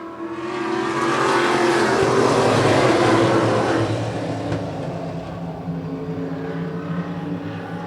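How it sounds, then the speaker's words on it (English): Modified race cars at Wiscasset Speedway roar past in a loud, dense pack, engines swelling to a peak and then fading slightly as the field moves away, with steady engine drone continuing. "Modifieds are underway with Kurt Snow in the 110 in command for the first circuit"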